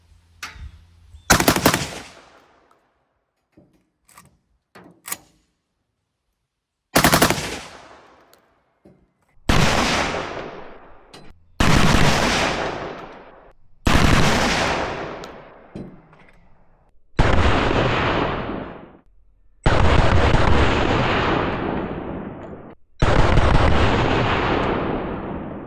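A 12 gauge shotgun mounted in an M60 setup fires home defense rounds, loud booming single shots spaced a few seconds apart, about eight blasts each trailing off in a long decaying echo, with quiet clicks and handling noises between the first few.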